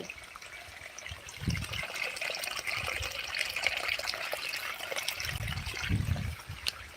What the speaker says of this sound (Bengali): এই দিক দিয়ে জল আসতেছে এই যে জল